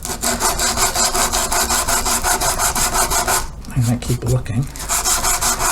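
A wooden neck for a short-scale bass is rubbed down by hand in fast, loud, rhythmic strokes of folded abrasive, which stop briefly while someone speaks and then resume.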